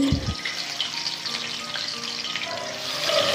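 Dry red chilies, a torn bay leaf and mustard paste stirred in a pan for an elephant apple pickle make a brief soft sizzle with watery hissing and a few scraping strokes.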